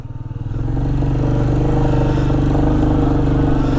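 A Royal Enfield Meteor 350 Supernova motorcycle carrying a rider and pillion rumbles in first gear while riding off-road over humps, its steady loud single-cylinder thump close by and unbroken throughout.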